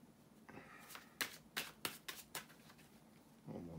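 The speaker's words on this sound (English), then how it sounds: "bear with me a second, guys, to shuffle the tarot cards" Tarot cards are shuffled by hand in a series of quick riffling bursts and soft flaps, close and fairly quiet, with a brief shuffle at the end.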